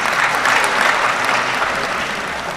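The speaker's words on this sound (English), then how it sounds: "A round of applause for her." A steady, dense round of applause at an official opening ceremony in Gambia, with many hands clapping together at an even level throughout, with no voices.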